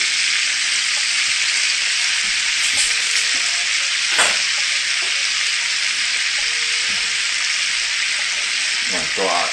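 A ribeye steak sizzles loudly and continuously in a frying pan after being flipped, with a few brief utensil knocks and a voice in the background.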